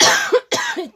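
A person gives two sharp, close coughs in quick succession, each a harsh burst ending in a brief voiced tail, uncovered and loud.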